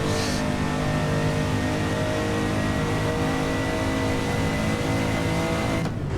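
A Porsche 911 993 engine roars continuously in the racing game Assetto Corsa, loud and sustained at high revs as the car tears through a village, with no talk.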